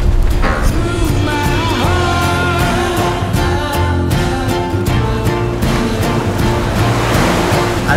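Waves break on a beach in Fuerteventura at high tide, a loud, continuous wash of surf with rolling crashes and hiss close by, with no voices.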